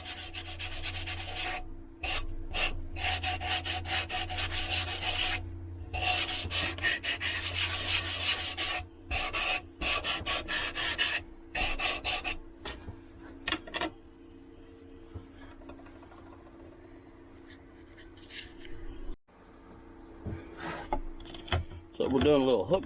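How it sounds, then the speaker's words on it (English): Sandpaper rubs over a hand-carved wooden bowl in quick, rasping strokes, loud and close, coming in bursts with brief pauses before fading into softer, sparser scraping. "is sanding things down and getting all the rough spots"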